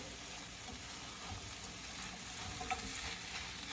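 Eggs sizzle and fry in a pan while being stirred and folded, a steady broadband crackle with soft scraping throughout, fairly quiet and close, with no talking.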